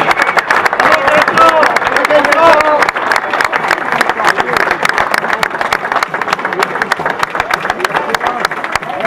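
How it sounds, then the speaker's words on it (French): Crowd applause and clapping at the finish of the third stage of the Triptyque ardennais cycling race in Trooz, loud and sustained throughout, with a voice speaking over it and some background noise. "Je vous demanderai d'applaudir Gaëtan Mille."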